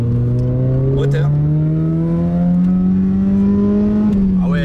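A Ford Sierra RS Cosworth with a full exhaust line accelerates on a straight, its engine droning and rising steadily in pitch from inside the car, loud and continuous, with a brief shift-like dip near the end.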